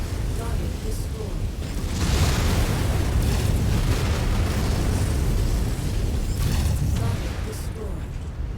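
Explosion of a destroyed backup generator at a derelict plant in MechWarrior 5, a broad rumbling blast that swells loud around the second mark and sustains as dense, roaring debris noise for several seconds.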